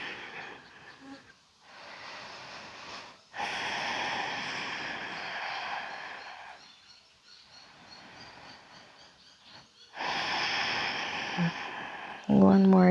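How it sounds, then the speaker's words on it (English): Slow, deep yoga breathing outdoors, with long airy inhales and exhales that swell and fade in clear cycles, close to the listener, with a soft voice speaking between breaths. "One more deep breath in. And exhale"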